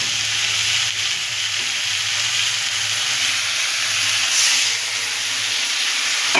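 Water poured into a spice mixture with turmeric powder in a hot pan for an egg curry, sending up a loud, steady sizzling hiss that holds close and continuous with no talk.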